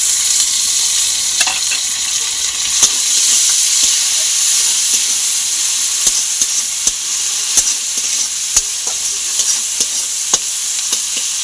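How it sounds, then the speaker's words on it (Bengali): Chopped tomatoes fry in a pan with chopped onion and green chilli, hissing steadily while a utensil scrapes and taps against the pan at irregular intervals; nobody talks. "এবার আমি টমেটো কুচি দিয়ে দেবো"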